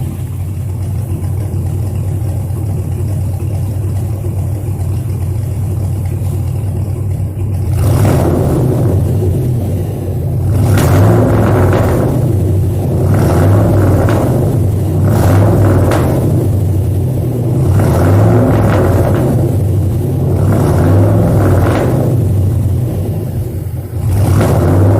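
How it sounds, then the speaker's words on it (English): A 1967 Chevrolet Bel Air V8 idles steadily with a deep low rumble, then is revved repeatedly in a series of rising and falling swells, close and loud, with no talk. "I've been revving it up every once in a while to get some bubbles to pop out."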